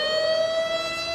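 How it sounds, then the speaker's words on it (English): Emergency warning siren holding a steady high wailing tone with strong overtones, loud and continuous, with no voices. "it's the emergency warning siren."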